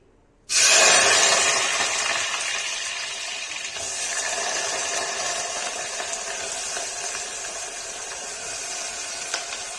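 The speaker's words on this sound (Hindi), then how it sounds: "गाइस देखिए तेल हो गया है, इसमें परवर डाल देंगे।" Parwal (pointed gourd) dropped into hot oil for a Kashmiri parwal-aloo curry, bursting into a loud, steady sizzle that starts abruptly and keeps hissing close up.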